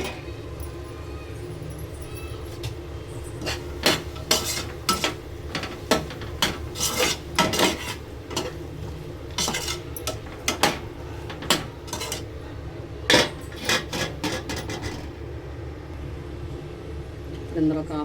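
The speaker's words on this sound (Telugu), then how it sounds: "ఇప్పుడు ఇందులో వెజిటేబుల్స్ కూడా వేసుకుని కలుపుకున్నాం" Vegetables being stirred into masala in a pan: repeated metallic scraping and clinking of a utensil against the pan, irregular and close, with a voice talking over it.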